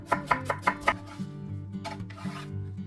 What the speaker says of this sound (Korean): 겉절이에 들어갈 양파 반 개는 가늘게 채 썰어주세요.